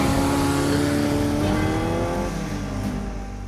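A restored classic car sets off on a shakedown run, its engine revving loud and close, pitch climbing steadily as it pulls away and fades slightly toward the end.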